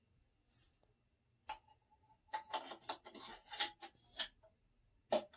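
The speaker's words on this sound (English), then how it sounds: "And the shell is locked into place." A TAGinn shell for an airsoft Matrix RPG launcher is loaded: quiet plastic sliding and rubbing scrapes in a short run, ending with a sharp click as it locks.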